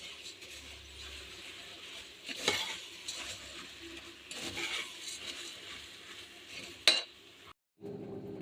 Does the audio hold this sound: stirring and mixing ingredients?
yes